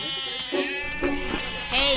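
A cartoon goat gives several bleats in a row, wavering and nasal, fairly close and loud, with the last one the strongest.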